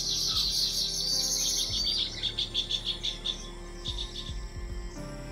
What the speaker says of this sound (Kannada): ಹೆಣ್ಣನ್ನು ಆಕರ್ಷಿಸಲು ತನ್ನ ಗೂಡಿನಲ್ಲಿ ಕುಳಿತು ರೆಕ್ಕೆಗಳನ್ನು ಬಡಿತಾ ಮಧುರವಾದ ಧ್ವನಿಗಳನ್ನು ಮಾಡೋ ಗಂಡು ಹಕ್ಕಿಗಳನ್ನು ನೋಡೋದೇ ಅದ್ಭುತ